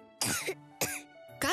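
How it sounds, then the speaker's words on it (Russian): Three sharp, harsh coughs in quick succession from one person, close and loud, each a short rasping burst with brief pauses between, with no other talk. "Кашель почався."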